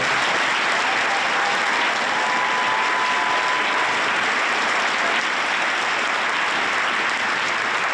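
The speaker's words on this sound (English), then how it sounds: "I would like to thank all of our District 1 awesome music educators right now. With a huge round of applause." Dense, sustained applause from a large audience at a state music festival, honoring District 1 music educators; loud and continuous throughout with no gaps.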